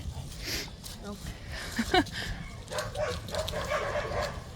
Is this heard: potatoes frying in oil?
no